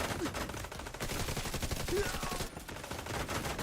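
Rapid turret fire in a video game, a loud, steady stream of closely spaced shots pounding on for several seconds with only a momentary break, close and dominant.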